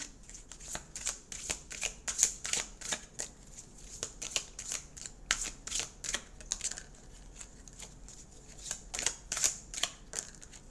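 Mirror oracle cards shuffled by hand in a quiet room, giving crisp, rhythmic flutters and snaps that repeat steadily for the whole stretch, close and fairly soft.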